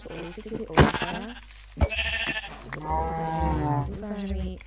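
Sheep bleating in Minecraft, several wavering bleats in a row, fairly loud and close, with a steady game background hum underneath.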